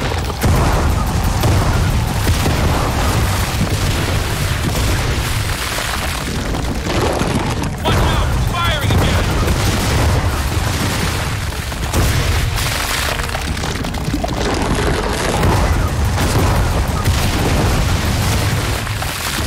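A boss unleashing its weapon in Gears of War 4, producing a loud, continuous barrage of booming blasts and explosive bursts that barely lets up across the whole stretch.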